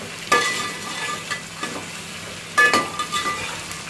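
Tomatoes being sautéed in a pan give a steady soft sizzle, with a few louder scrapes and stirring bursts near the start and again about two-thirds through.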